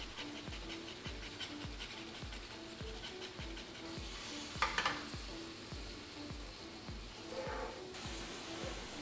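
Seasoned korokke potato mixture cooking down in a pan, a steady low sizzle with a regular thumping rhythm of stirring strokes, plus a brief brighter clatter midway and a short panting, dog-like sound late.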